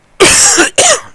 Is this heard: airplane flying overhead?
no